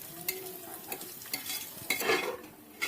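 Cashews and raisins fry in hot ghee in a pan and are stirred with a spoon, giving a soft steady sizzle broken by repeated scraping and clinking strokes.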